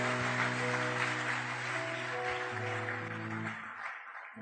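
A church congregation at a French-language service claps together in dense, sustained applause under steady musical tones, fairly close, then fades out at the end.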